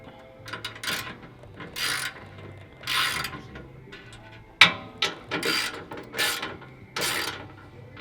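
A ratchet with a 12mm socket on an extension snugs up skid plate bolts on a 2022+ Toyota Tundra during a TRD skid plate install, giving bursts of close mechanical clicking with short pauses between them.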